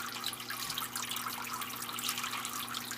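A Zoo Med Turtle Clean 75 turtle filter pumps water, giving a quiet, continuous splashing trickle with a faint steady motor hum beneath it.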